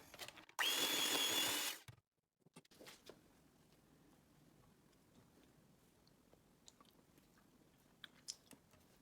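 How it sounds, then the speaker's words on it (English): An electric beater whirs loudly through tiramisu cream for about a second and a half, a steady high-pitched motor hum that cuts off abruptly, followed by faint kitchen clatter and quiet handling noises. "And I'm going to go through with the beater"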